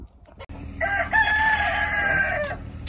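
A rooster crows one long, loud cock-a-doodle-doo close by, drawn out over about two seconds and fading at the end.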